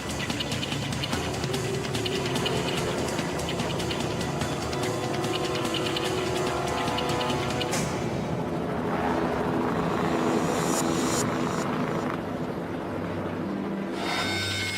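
A rescue helicopter's loud, steady rotor roar with rapid thudding chop, close and continuous, shifting slightly in tone as it moves.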